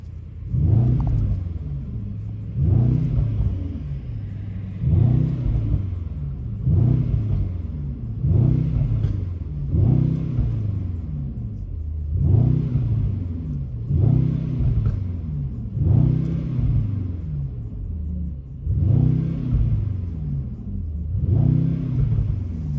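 A Mercedes-AMG E63 S engine in Sport Plus mode revs repeatedly in a steady rhythm, about a dozen throaty low bursts rising and falling, loud and close with no talking.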